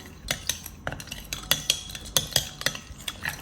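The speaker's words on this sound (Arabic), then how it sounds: "وهلا بنحركهم" A spoon stirs instant yeast and sugar, probably in warm milk, with quick, steady clinks and scrapes against the container. The tapping sounds close and fairly loud and keeps going with no talking.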